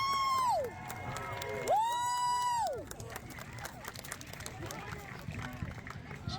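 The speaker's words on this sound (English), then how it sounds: "Give him another round of applause." Crowd at a buhurt armored-combat tournament during a Renaissance faire cheers a fighter, opening with loud rising whoops and whistle-like cries before settling into a steady, bustling roar of cheering and applause with voices throughout.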